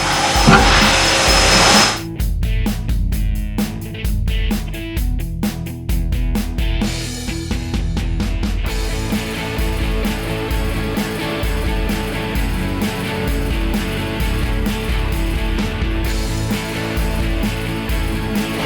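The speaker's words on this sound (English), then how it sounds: "we're going to go ahead and install our in-feed chute with the 7 bolts." Seven bolts are driven in to fasten the in-feed chute on a Crary Bear Cat SC5540B chipper/shredder, with a loud, continuous mechanical whine and a rapid rattling stretch early on that settles into a steady drone.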